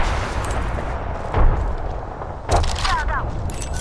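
Frag grenade blasts in the video game Apex Legends, two dull booming explosions about a second apart over a constant rumbling background, with a few brief metallic chirps afterward.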